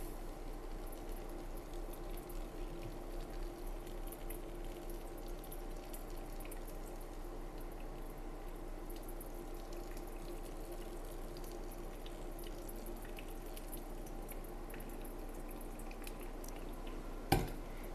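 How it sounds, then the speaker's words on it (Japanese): Hot water is poured in a thin stream around the edge of coffee grounds during a hand-drip brew of a coffee blend, making a faint, steady trickle that runs unbroken for the whole stretch with no talking. "その後最後の方では、細いお湯で、周りにかけていきます。"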